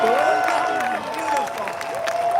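A Donald Trump rally crowd in Hialeah, Florida, applauding and cheering in a steady roar, with a voice talking over it throughout.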